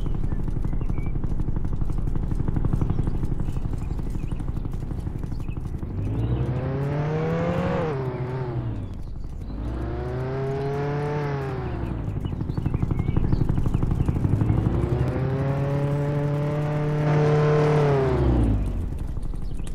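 A vehicle engine in the Roblox game Jailbreak revs up and down in three long swells, a buzzy synthetic whine that rises and falls in pitch, loud and close over steady game background noise.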